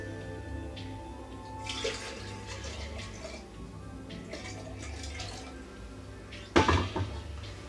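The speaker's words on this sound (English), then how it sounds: "we're gonna take a mason jar and fill it up with some water" Water runs into a mason jar, a soft steady pour with bubbling splashes and faint drips over a low background hum, ending with a sharp clink of glass.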